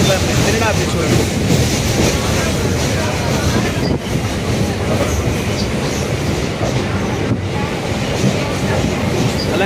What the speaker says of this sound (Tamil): இப்போ லைட் ஹவுஸ் ட்ரெயின் வந்தாச்சு